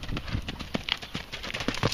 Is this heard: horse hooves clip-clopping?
yes